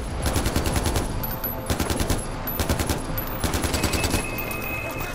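Rapid automatic gunfire from a firefight in the video game Far Cry 4 rattles in several loud bursts, with only brief gaps between volleys.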